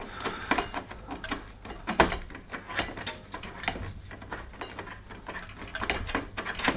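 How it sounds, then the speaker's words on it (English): A screwdriver tightens a screw during a PC build, producing a close, quiet run of irregular ratcheting clicks and small metallic ticks with no speech over it. "Yeah, you can't see it, but I'm gonna tighten the other side."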